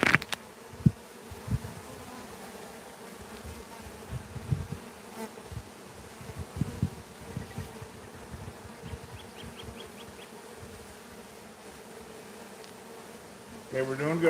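Africanized killer bees swarming in a pear tree, a continuous low buzzing drone with individual bees flying close past the microphone in irregular loud passes; a faint voice briefly near the end.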